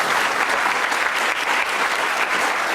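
Sustained applause from a theatre audience at a French comedy show, applauding a professor seated in the hall; dense, steady clapping throughout, loud and close, without pauses.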